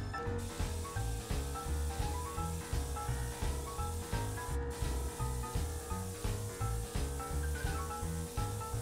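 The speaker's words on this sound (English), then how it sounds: "So I've got 80 grit sandpaper, dust porch ready to collect the dust." An 80 grit sandpaper disc grinds steadily across a square wooden bowl with a stone inlay while a dust collector runs, producing a continuous loud rasping hiss with a regular pulsing rhythm.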